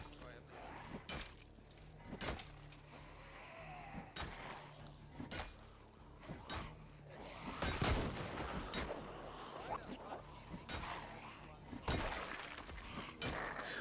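Gunshots ring out in Project Zomboid, sharp and loud, irregular single shots and short bursts scattered across the stretch, with a person talking between them.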